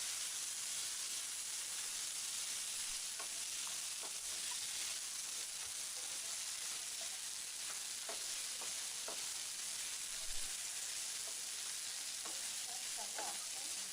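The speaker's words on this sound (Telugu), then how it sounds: "ఇప్పుడు మూత తీసి ఒకసారి కలుపుకొని" Potato fry sizzling in a pan with the lid off, a steady soft hiss of frying broken by scattered light scrapes and clicks of stirring, fairly faint and without talk.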